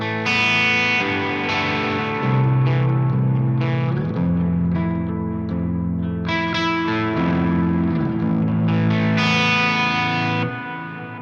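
Electric guitar played through an amplifier with the gain backed off, a crunchy, mildly distorted tone with sustained chords and single notes ringing out loud and steady, no voices.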